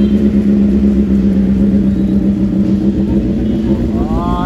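A loud, steady motorcycle engine rumbles close by, idling, then its pitch rises in a brief rev near the end. No one speaks.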